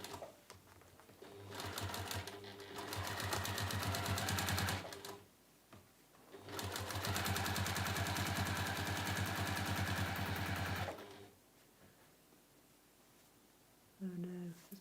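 Sewing machine stitching along the bound edges of a handmade three-pocket tote bag, running in two long steady bursts of rapid, even needle chatter separated by a brief pause, with quiet speech at the end.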